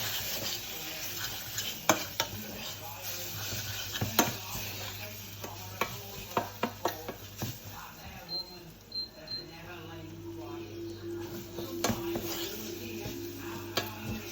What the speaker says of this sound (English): I'm just going to cook them spices through